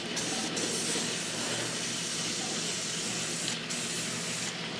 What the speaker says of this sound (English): we're just going to spray this.